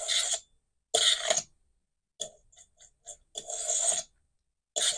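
Fingerboard sliding along a small rail, a handheld toy-scale skateboard with loose trucks; several short raspy scraping bursts of about half a second each, close and fairly quiet, separated by silence, with a broken clicking passage in between.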